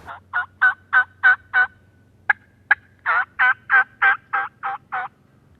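Wild turkey hens call close by in a quick series of loud, evenly spaced yelps, pausing briefly with a couple of sharp clucks before the yelping resumes.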